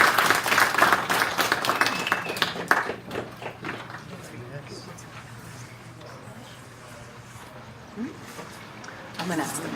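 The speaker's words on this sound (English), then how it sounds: "give a round of applause to Mission High School" Applause from a school event audience for Mission High School at a senior pitch presentation, a dense burst of clapping for about three seconds that quickly thins into scattered claps and low room chatter.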